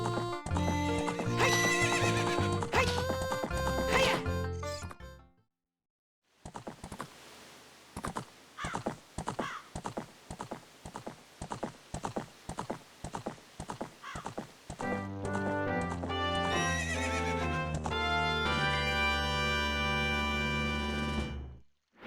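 Horse whinnies and clip-clopping hooves from The Legend of Zelda: Ocarina of Time, with loud neighs over game music, then a steady run of hoofbeats, then more whinnying; no talking.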